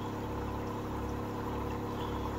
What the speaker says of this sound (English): I drain my water into this 5-gallon bucket, just so it doesn't fill up my sewage tanks so fast